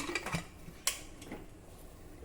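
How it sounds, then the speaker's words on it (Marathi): A pressure cooker lid is fitted and closed over a pot of lentils, producing a couple of soft metal clinks and one sharper click, close and quiet, with no voices. "कुकरचं झाकण बंद करून घेऊया"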